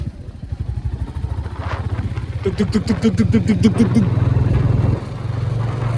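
A motorcycle idling and clunking into first gear on a street, its low engine putter loud and close, with a rapid rattling burst in the middle as the gear engages and a voice speaking over it.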